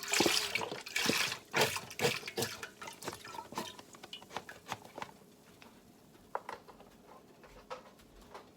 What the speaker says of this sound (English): And more than 2 cups of water.